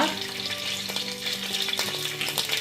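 Bay leaves and a piece of cinnamon sizzle in hot ghee in a pan for chicken pulao. A steady, close, crackling fry with scattered pops and stirring scrapes runs throughout.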